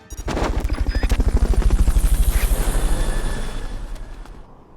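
A helicopter in the video game Metal Gear Solid: Peace Walker, a loud, rapid rhythmic rotor chop that starts abruptly, holds steady for several seconds and then gradually fades, with no talk over it.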